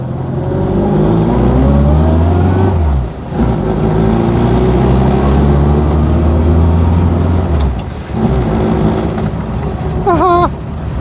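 A 1999 Reliant Robin's small engine drones steadily while driving, with a slightly blowing, leaking exhaust adding a rough edge; the engine note stays loud and close, dips briefly twice, and a voice speaks near the end.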